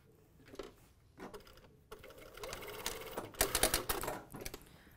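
A sewing machine back-tacks elastic onto stretch leggings in short bursts, stitching in a small square with quick forward-and-reverse runs and brief pauses between them, loud and close.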